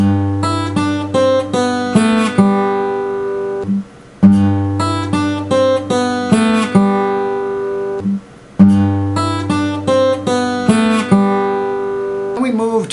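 Ending riff from a song on a strummed acoustic guitar, with bright picked notes and pull-offs in a repeating phrase played three times, loud and close with no voices.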